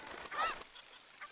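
A cucco chicken in Zelda Ocarina of Time gives a short squawking cluck, a single brief honk-like call, quiet and alone.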